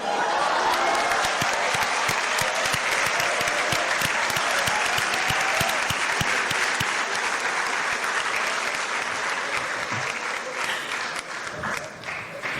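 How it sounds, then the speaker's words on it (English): Sustained round of applause from a seated college audience honoring record-holding student-athletes at a senior awards ceremony, dense and steady throughout, fading slightly near the end. "soak in the round of applause that you all deserve"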